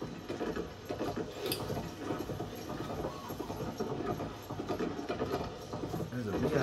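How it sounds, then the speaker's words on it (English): Steady clip-clop of horse hooves on a road in Zelda: Tears of the Kingdom, a continuous rhythmic patter at moderate level beneath a low game soundscape. "Slowest horse, man."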